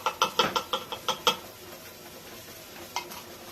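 Pizzelle batter being stirred in a bowl, a quick run of about eight scraping, clinking strokes that then trail off into quiet, with one last faint stroke near the end.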